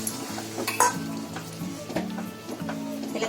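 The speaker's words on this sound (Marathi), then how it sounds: "आता त्याच्यामध्ये हा मसाल्याचं पाणी" Masala water poured into hot oily misal gravy in a pan, giving a sizzle with stirring and a few metallic scrapes of a spoon against the pot, close and moderately loud.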